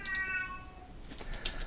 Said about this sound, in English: That is the cat.